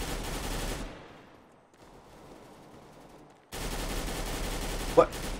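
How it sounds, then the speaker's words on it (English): Rapid automatic gunfire in the shooter game CS:GO, loud dense bursts at the start and again near the end, separated by a quieter stretch of game ambience. "I have to shoot like one bullet tap"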